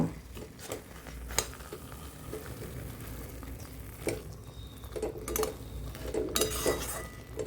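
Pumpkin halwa being stirred together with dry fruits and cardamom powder in a pan over full flame, giving scattered metal clinks and scrapes of a spoon against the pan, close and moderately loud, with no talking.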